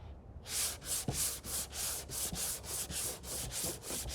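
Steady back-and-forth strokes of hand sanding a car body panel with guide coat, a rhythmic scratchy rasp repeating about three times per second, close and alone.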